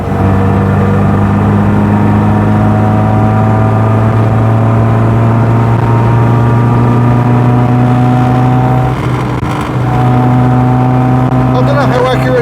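Austin A35 van with a 1.3 litre A series engine drives steadily, a loud continuous engine drone holding a constant pitch with a brief gear-change dip near the end, heard from inside the cabin with occasional talk.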